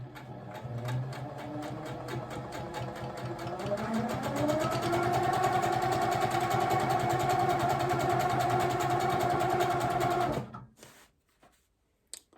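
A sewing machine quilting ice-dyed fabric runs in a rapid steady needle rhythm, rising in pitch as it speeds up, holding at full speed up close, then stopping abruptly near the end with a final small click.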